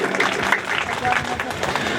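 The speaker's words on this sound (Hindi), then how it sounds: "जोरदार तालियां नेताजी के लिए" A crowd at a Hindu religious gathering breaks into brief, dense clapping for a visiting politician, close and fairly loud throughout.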